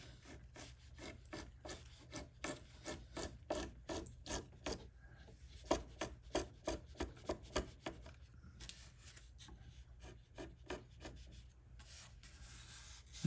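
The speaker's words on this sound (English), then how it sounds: "I'll switch over to a 3/8 chisel." 3/8 chisel paring wooden guitar top braces, with a steady series of short scraping, rasping strokes in an even rhythm, close and quiet, no voices.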